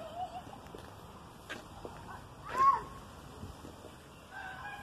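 Chickens in a yard at the Asilo do Carmo in Campos dos Goytacazes give faint, scattered clucks and a brief louder call over quiet outdoor background.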